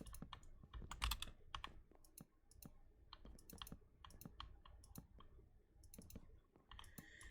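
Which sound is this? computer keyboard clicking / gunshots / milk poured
computer keyboard clicking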